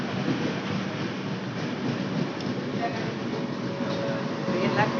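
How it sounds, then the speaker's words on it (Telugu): The Chennai Central–Ahmedabad Navjeevan Superfast Express pulls into Mancherial railway station with a loud, continuous, close rumble and rolling clatter that holds steady throughout. "train number 1265 Chennai Central Ahmedabad Navjeevan Superfast Express is coming on."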